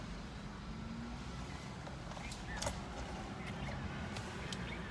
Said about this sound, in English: there's a lot of cars driving by